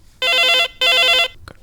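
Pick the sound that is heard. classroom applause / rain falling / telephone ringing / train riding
telephone ringing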